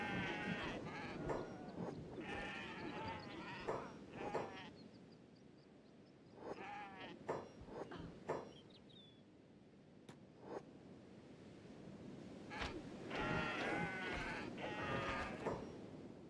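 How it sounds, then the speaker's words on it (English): Goats bleat repeatedly in scattered bursts in the video game Kenshi, several overlapping calls rising and falling over a quiet background, with short gaps between clusters. "Oh no, you're fighting the goats."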